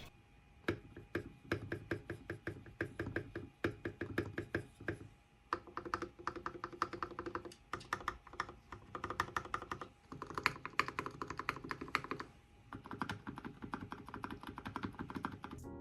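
Typing on an RK61 mechanical keyboard with mounted stabilizers, recorded up close as bursts of rapid, crisp key clacks. A few short pauses separate the runs, and the deeper thock of the spacebar and other stabilized keys shows up among them.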